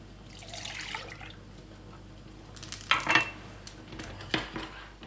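Metal saucepans clatter and clank on a stovetop while making rice pudding, a few sharp knocks and scrapes with quieter handling in between.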